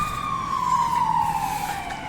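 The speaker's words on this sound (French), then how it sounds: "Ah, c'est l'ambulance, non." An ambulance siren passes along a street in Malaga, its wailing tone loud and steady, then sliding gradually lower in pitch as the vehicle moves by, over low traffic rumble.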